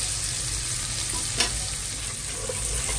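Onion sizzles steadily in a hot pan for a clam and spinach soup, with a brief stirring scrape partway through, close and constant with no talk.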